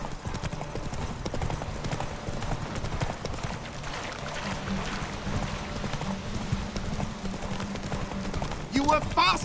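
Horse hoofbeats from The Witcher 3 run steadily under game music and ambient sound, with a brief burst near the end and a voice speaking in the scene.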